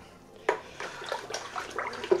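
Water poured into a container while making blackberry and rhubarb wine, a splashing gush that starts abruptly and continues as a steady close pour.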